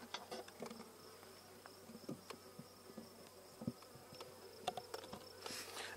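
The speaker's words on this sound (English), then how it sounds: "A couple bees there, I don't want to squish." Faint bees buzzing around an experimental hive being adjusted for winter, a soft continuous hum with scattered clicks and knocks close by, no talking.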